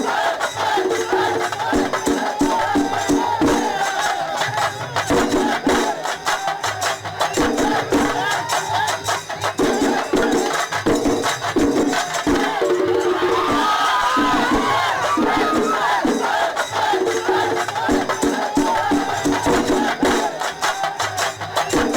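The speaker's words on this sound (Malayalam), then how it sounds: "എങ്ങും ആരവങ്ങൾ മുഴങ്ങി." A dense festival crowd at the Duryodhana temple festival in South India roars continuously, with loud overlapping cheers and shouts rising and falling without pause.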